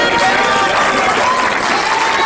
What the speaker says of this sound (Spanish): Con una gran ovación fue recibida la legendaria actriz y cantante mexicana Flor Silvestre en el Festival Internacional de Cine de Guadalajara.